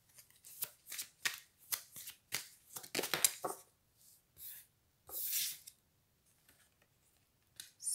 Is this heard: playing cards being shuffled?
yes